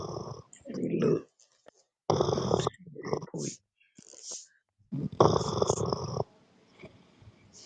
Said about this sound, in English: Who is that snoring?